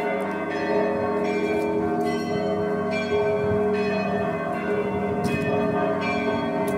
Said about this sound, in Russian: церковный колокол носит название «Царь Михаил».